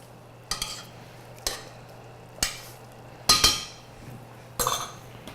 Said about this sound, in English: So we're going to add a good tablespoon of cheese to this, kind of stir it in